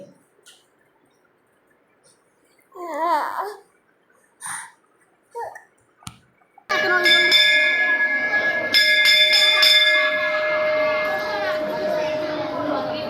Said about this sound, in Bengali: এবার এক এক করে সবাই মন্দিরের ঘন্টাটা বাজিয়ে নেবে